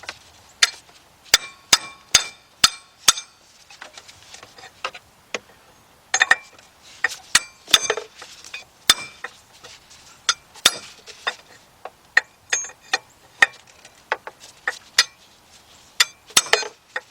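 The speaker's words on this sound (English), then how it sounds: "you're going to take a hammer and you're going to just keep hitting the hammer" A hammer repeatedly strikes a wrench to shock loose the water pump clutch assembly on a Trailblazer, Rainier, Colorado, Canyon, Envoy, Hummer or Bravada: sharp, close metallic clanks and clinks in irregular bursts with brief pauses, no talking.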